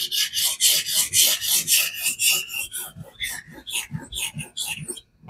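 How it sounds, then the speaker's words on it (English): A knife is drawn across a Cheefarcuut fixed-angle benchstone in a rapid series of rhythmic, raspy strokes, close and clear, with a few softer, more irregular passes near the end. "But for this initial sharpening"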